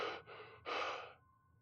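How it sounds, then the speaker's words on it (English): Shallow, rapid breaths crackle through an intercom speaker: three quick harsh inhales and exhales in a row, then they trail off into a faint electronic hum. "Shallow, rapid breathing came through the speaker."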